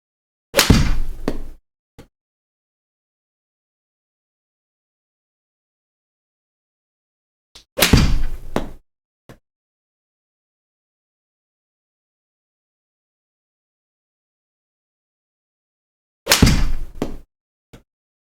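A golf club strikes balls off a Monster Mat hitting mat: three separate sharp thwacks, each with a short follow-on rattle, widely spaced by long silences, close and loud.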